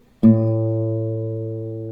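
A single acoustic guitar pluck on the open A bass string, part of a fingerpicked pattern from a song, rings out close and clear and decays slowly with no voice over it.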